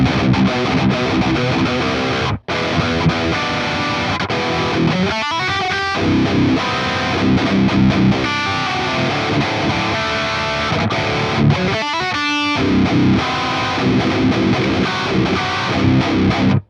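Heavily distorted metal guitar riffs through the STL Tones Lasse Lammert plugin, played with the overdrive's tone set high, conservative amp gain and a slight mid scoop, chugging continuously and loud with a couple of brief stops.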